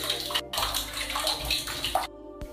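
Steeped herbal tea poured into bath water, a continuous splashing, gurgling pour close by with short pauses, no talking.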